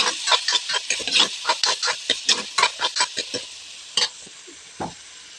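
Duck meat frying with red chili, salt and turmeric is stirred in a pan, a quick run of rhythmic scraping strokes over a sizzle that slows to a couple of final scrapes.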